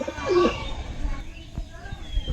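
A male pigeon's soft, low cooing, brief and close, with some faint background noise and a few soft knocks.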